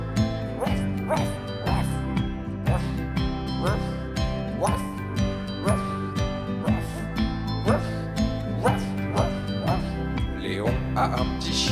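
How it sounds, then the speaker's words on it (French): A small dog's bark rendered in a bouncy French children's song, short yips recurring in rhythm with the beat over steady backing music and a singing voice. "Léon a un petit chien"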